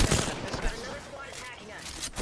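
Rapid gunfire from the R-301 and other weapons in an Apex Legends match, a dense, loud burst of shots that fades into a noisy game mix.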